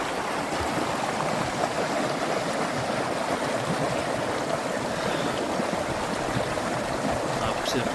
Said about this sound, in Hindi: आप सिर्फ पानी की आवाज़ सुनिए